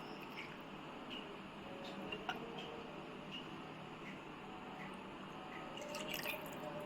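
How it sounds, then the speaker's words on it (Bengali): Homemade milkshake poured from a container into cups, a faint, soft trickle and drip of liquid running steadily against a quiet room hiss. "তো এবার আমরা কাপের মধ্যে ঢেলে নেবো"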